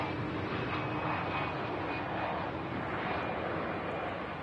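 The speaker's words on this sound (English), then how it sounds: "Logan Air, Embraer 145 touching down." A Loganair Embraer 145 regional jet touches down at Manchester Airport, making a steady, broad, close roar of engine and airflow that holds evenly throughout with no voices.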